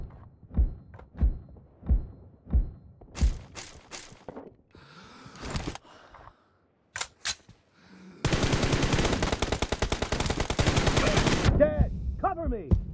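In-game gunfire from PUBG Mobile: a series of separate single shots, then a long rapid burst of automatic fire, loud and close, with short gaps and thuds between.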